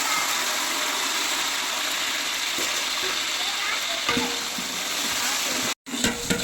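Onions, green chilies and tomatoes frying in a large pot for Eid biryani, a steady loud sizzle with occasional scraping stirs and clanks, a brief pause near the end.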